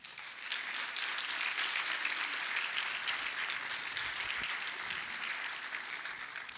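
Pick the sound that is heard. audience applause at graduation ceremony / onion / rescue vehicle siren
audience applause at graduation ceremony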